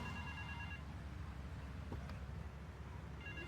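A phone rings in the game GTA Vice City, a faint electronic trill heard at the start and again at the end over a steady low engine rumble.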